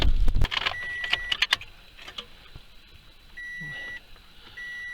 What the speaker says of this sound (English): That beep is pretty muffled from all the snow that's on it.